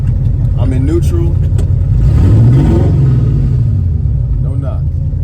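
A Mopar car accelerating with a noise from the front, a loud low engine rumble that rises in pitch as it picks up speed, with someone talking over it.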